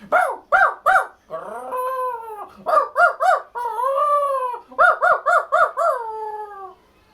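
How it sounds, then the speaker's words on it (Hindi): Dogs barking as a sound effect in a children's story: loud, close bursts of sharp barks in quick threes, alternating with longer drawn-out yelps and whines, with no talking over them. "कुत्ते भौंक रहे थे।"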